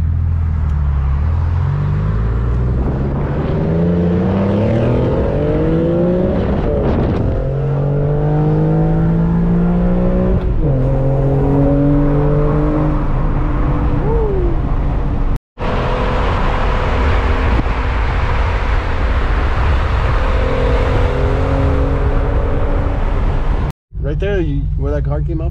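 An Infiniti G37 engine revs loudly and close for a long stretch, rising and falling through several throttle blips with steady sweeping pitch, plus two sudden brief cutouts, while other outdoor noise runs underneath.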